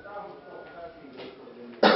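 A sharp, brief cough bursts out right at the end of a comedy scene, following a couple of seconds of voices.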